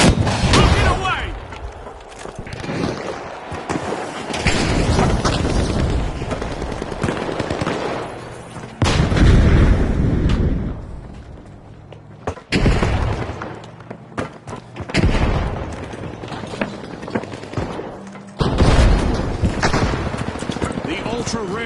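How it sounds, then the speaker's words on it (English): Eliminated contestants blow up in The Finals video game. Loud, dense game audio carries repeated explosive booms and bursts of gunfire, nearly continuous, with a few brief drops in between. "contestants that are eliminated in the arena will go kaboom"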